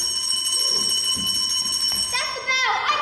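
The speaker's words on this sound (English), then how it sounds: "That's the bell. I gotta go." A school bell in a staged theatre performance rings with a sustained bright electric tone throughout, while someone talks over it in the background.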